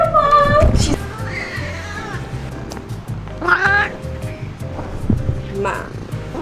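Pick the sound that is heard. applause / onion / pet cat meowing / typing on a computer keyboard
pet cat meowing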